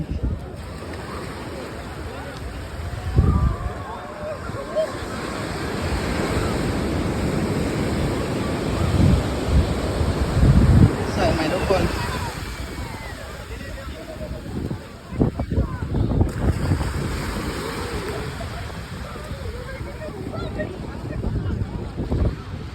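Wind gusts buffet the microphone on Patong beach in Phuket, a loud rushing roar with surf washing underneath and occasional thumps, steady throughout the clip with no clear talk.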